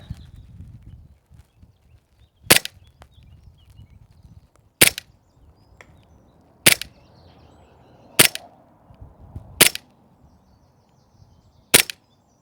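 A Novritsch SSP18 airsoft pistol firing 0.3 g BBs on green gas gives six sharp, loud snapping shots spaced about two seconds apart, with quiet rustling between them.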